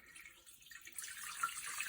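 Water poured into a Thermomix TM6 bowl in a kitchen, a steady hissing splash that swells about halfway through and keeps running, faint and close, with no talk.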